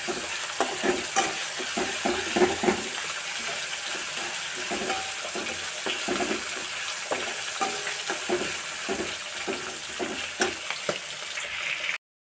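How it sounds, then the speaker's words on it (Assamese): Ginger, garlic and green chili paste frying in a pan while being stirred, a continuous sizzle broken by repeated scraping and clicking strokes of the spatula at an irregular rhythm. "এতিয়া মই আদা নহৰু আৰু জলকীয়াৰ পেষ্ট দি দিম।"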